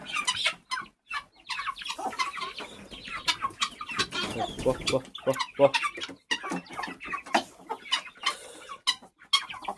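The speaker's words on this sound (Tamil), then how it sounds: "கஷ்டப்பட்டு எல்லாத்தையும் உள்ளார துரத்தியாச்சு கின்னி கோழி ஒன்று வெளியே போச்சு" Chickens and guinea fowl cluck, squawk and squeak in a coop, a busy, close, irregular chorus of short calls, with a person speaking now and then among them.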